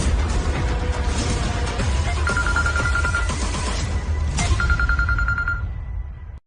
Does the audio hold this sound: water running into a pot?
no